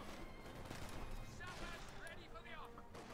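Battlefield gunfire in Company of Heroes 2, a dense rattle of distant shots and combat noise running throughout beneath a commentator talking over it.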